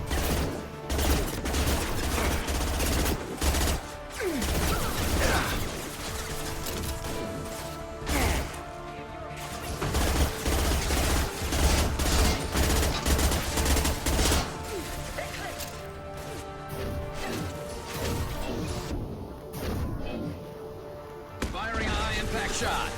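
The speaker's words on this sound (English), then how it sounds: "Firing a high-impact shot." Dense, loud gunfire and impact crashes from the Mass Effect 2 video game fill the scene, repeated bursts and shots layered over a busy game mix with voices talking throughout.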